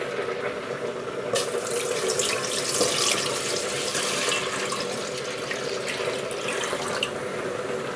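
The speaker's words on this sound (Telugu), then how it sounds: "ఇదే గ్లాస్తో ఆరు గ్లాసులు వాటర్ పోసుకోవాలి" Water pours steadily from a glass into a cooking pot on the stove, a continuous close splashing gush with a sharp start, without any talking.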